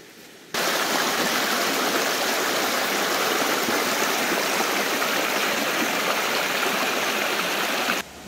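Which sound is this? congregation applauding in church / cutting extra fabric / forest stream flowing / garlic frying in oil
forest stream flowing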